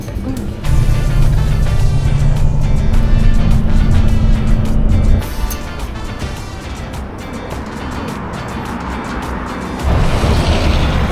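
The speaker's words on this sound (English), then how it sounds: "There goes the bus." A bus roars past on a road near Tallinn's old town, loud low engine rumble swelling close by then easing, followed by ongoing traffic and wind noise, with a second vehicle surge near the end.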